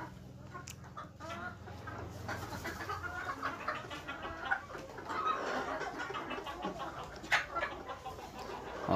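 Local farm chickens clucking steadily, with several hens overlapping and an occasional louder call standing out over a busy barnyard background.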